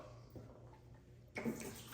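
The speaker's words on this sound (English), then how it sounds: "6 to 8 ounces of water. Add the water in." Water pours into a bottle with a low, soft trickle that swells into a brighter, splashier pour partway through, close by and quiet, with no talking.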